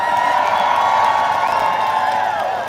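A large protest crowd at the Hands Off! rally in Minnesota cheers and whoops in a loud, sustained roar with no break.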